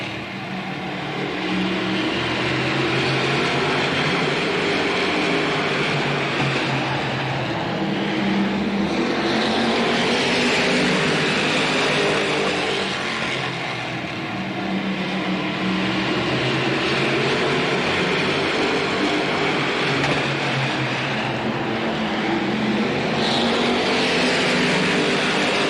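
Sportsman-class stock cars race at Slinger Speedway in 1985, engines roaring loudly and continuously as the pack circles, with pitches swelling and fading as cars pass close by, no talk over it.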